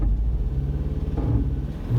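A car engine rumbles low and steady during a driving lesson, a moderately quiet drone with slight pulsing and no talk.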